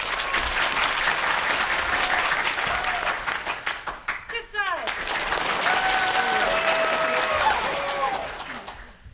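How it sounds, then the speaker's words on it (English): Convention panel audience at a fan convention applauding loudly, sustained dense clapping with cheers and whistles, fading near the end as a voice speaks briefly. "Can I get applause for this side?"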